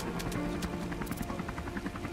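Helicopter in the zombie shooter video game The Walking Zombie: Dead City, a faint steady rotor buzz with light chopping, heard briefly on its own.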